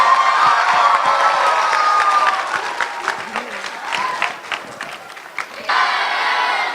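Loud applause and cheering for performers after a college group dance and mime, with whoops and shouts over clapping that dips mid-way and swells again, voices mixed in.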